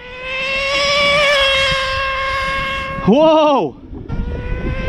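An HPI Nitro MT2 nitro RC monster truck engine at full throttle: a loud, high, steady whine holds its pitch, then swoops down and back up before cutting off. A brief exclamation comes near the end.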